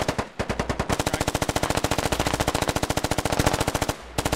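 Automatic gunfire in the tactical shooter Squad rattles in a long, rapid, loud burst of evenly spaced shots, close by, with a brief pause near the end before firing resumes, and no talking.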